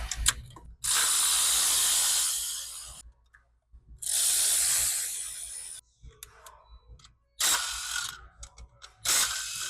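A ratchet loosens the rocker box bolts on a third-generation 6.7 Cummins diesel, with several bursts of rapid, close clicking separated by short pauses and lighter handling noises, and no voices.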